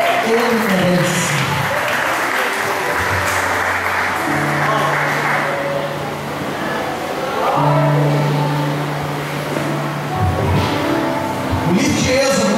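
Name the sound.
applause in church service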